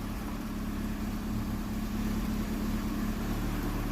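A 2003 Hyundai Accent idles with fluid spitting from its exhaust, a steady, low engine rumble and hum that runs continuously, moderately quiet and without talk.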